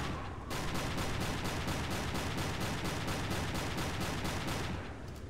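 Rapid gunfire from a submarine's deck gun in Silent Hunter III, a loud, steady burst of evenly spaced shots running for about five seconds, close and with no talk.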